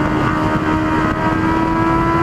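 A Honda Hornet motorcycle's exhaust roars steadily and loudly, close by, with a dense continuous engine drone and a sustained tone.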